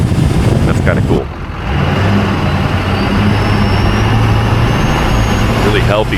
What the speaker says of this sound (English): Really healthy sounding turbo.